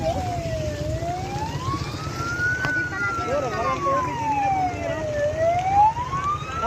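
A fire truck siren wails, rising and falling slowly over rumbling traffic, fairly close and loud, with voices murmuring faintly underneath.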